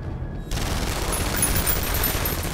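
Gunfire bursts out in X-Men Origins: Wolverine on PS3, a sudden dense fusillade of rapid shots and booms that starts abruptly and keeps pounding loudly without letup.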